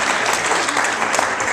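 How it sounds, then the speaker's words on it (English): Applause from an audience at a hypnosis show, a steady dense wash of clapping heard alone for a short stretch. "Give her a huge round of applause."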